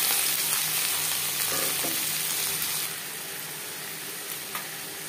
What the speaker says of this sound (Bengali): টমেটো, রসুন ও পেঁয়াজ ভেজে নেওয়ার পর দিয়ে দেব আদা বাটা